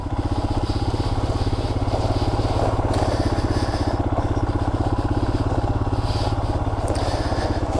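Royal Enfield Himalayan motorcycle with a 21-inch front wheel riding off-road through deep, soft gravel, its engine thrumming steadily and loudly throughout with a constant rumble and faint crunching, without talk.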